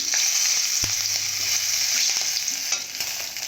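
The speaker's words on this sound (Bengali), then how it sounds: "কড়াতে লঙ্কা দেবো একটা" A green chili sizzles in hot oil in a kadai after fried beans are lifted out, a steady loud hiss and crackle throughout with a few utensil knocks and scrapes.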